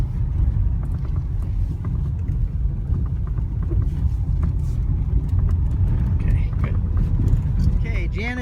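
A rental car drives down a narrow one-track road toward the shipwreck site on Malta, a steady low engine and tyre rumble that stays close throughout while people talk over it.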